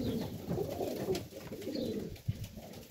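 Highflyer pigeons coo in a loft in Melbourne, Australia, a low soft rolling murmur from several birds close by, steady and without speech.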